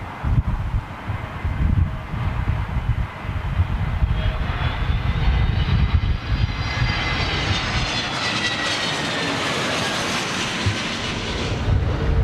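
An SAS Airbus A320neo passes with a loud, sustained jet engine roar, the whine rising and shifting in pitch as the airliner moves overhead, with some wind noise on the microphone.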